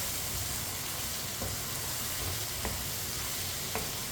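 Soaked, swollen chana dal sizzling and frying in a pan while being stirred, a steady close crackle with a few soft scraping knocks from the mixing.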